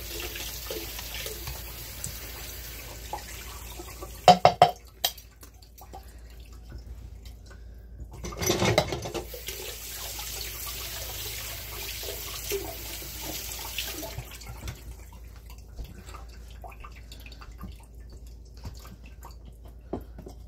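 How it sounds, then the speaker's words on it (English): Tap water runs into a cooking pot at home, a low, soft stream of pouring water broken by a couple of sharp clanks and a louder gush before settling back into a quiet trickle. "Just going to add water to it and get it all out of there."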